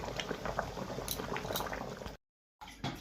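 A pot of masoor dal with fish heads bubbles and boils, with ghee added; close, fairly faint bubbling and popping broken by a short silent gap near the end.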